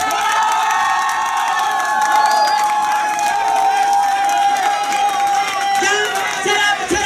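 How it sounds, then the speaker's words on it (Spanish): A crowd cheers and shouts continuously at a television entertainment show, with loud whoops, screams and excited voices filling the scene throughout, steady and close. "el segundo aplauso sería entonces para Valentina Mimón."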